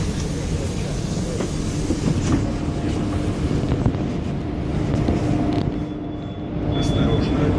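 Moscow metro 81-760/761 Oka car running on the Kaluzhsko-Rizhskaya line, a loud continuous interior rumble and roar of the moving train with steady wheel noise and a faint high whine near the end.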